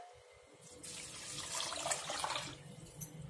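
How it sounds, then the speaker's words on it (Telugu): Water is poured into rice in a cooking pot for prawn biryani, a soft continuous splashing and gurgling lasting a few seconds, fairly quiet and alone. "మూడు గ్లాసులు వాటర్ వేసానండి"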